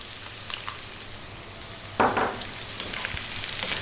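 Potatoes frying in a pan as a cup of sliced onion goes in for a spicy Indian potato fry, with a steady soft sizzle and a brief louder hiss and stirring as the onion is added.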